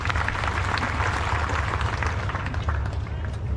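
Dense, continuous crowd noise at a live religious question-and-answer gathering, like an audience clapping steadily, loud and close with a murmuring background.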